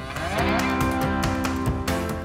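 A cow moos repeatedly on a small mountain farm in Valloire, long low calls rising and falling close by, with no talk over them.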